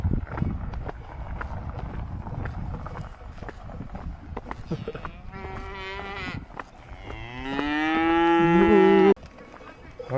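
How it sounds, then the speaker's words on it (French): Cows mooing close by, with two long, loud lowing calls near the end after a stretch of rustling and faint hoof-like movement, and a person speaking nearby. "Hein, petite vache."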